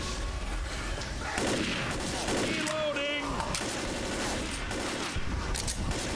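Rapid gunfire from a Left 4 Dead shooter game as players pick off zombies at long range, crackling bursts over dense game noise with voices talking throughout.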